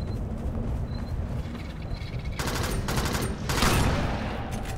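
An automatic gun firing in the sci-fi shooter game Alien Swarm: Reactive Drop: two dense bursts of rapid gunfire over a rumbling, noisy background of battle, loud and close, with no speech.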